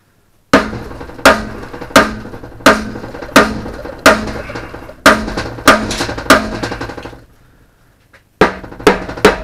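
Repeated hammer blows on an MTD Yardman mower part, about a dozen sharp metallic strikes at a steady rhythm, close and loud with ringing decay, a brief pause, then more blows.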